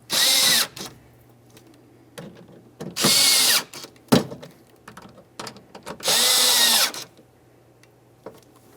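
A power drill snugs up bolts in a car door during a rear power window motor replacement on a 2003-2011 Mercury Grand Marquis, three loud whirring bursts of roughly a second each, with quieter clicks and handling noises between.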